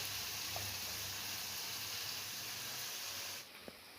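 Raw chapila fish in hot oil, a steady broad hiss and sizzle that runs evenly, then drops abruptly near the end, leaving a quieter room with a faint tick.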